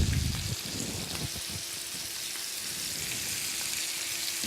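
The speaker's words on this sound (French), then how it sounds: "ma poêle est bien belle pour faire revenir maintenant mes tournes d'eau" Beef tournedos sizzle in brown butter in a frying pan, a steady crackling fry with a brief louder burst at the start, close and continuous without talk.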